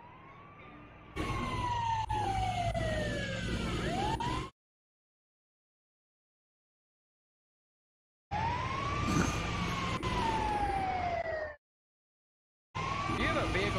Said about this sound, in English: You have a vehicle with sirens,